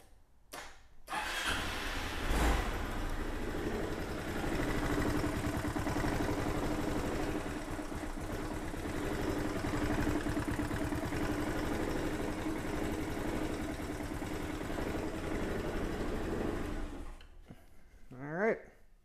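A Honda Big Ruckus scooter engine cranks, catches and settles into a steady, fairly loud idle that runs for most of the stretch before cutting off, with a brief voice near the end.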